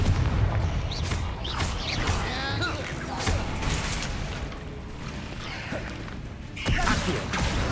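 Confringo spell explosion during a fight against spiders in Hogwarts Legacy. Booming, crashing bursts sit in a dense, cluttered combat mix, and a sharper, louder blast comes near the end.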